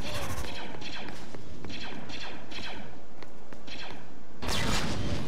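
Triple-burst blaster fire from a weapon in the Star Wars Battlefront 2 video game, heard as a dense run of loud repeated bursts and crashing impacts, with a final heavy blast near the end.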